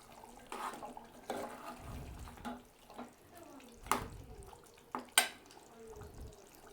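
A spoon stirs Andhra-style chicken curry in a pot, giving intermittent scraping and clinking knocks against the metal with soft wet shuffling between them. The sounds are fairly quiet and irregular, with a few sharper taps.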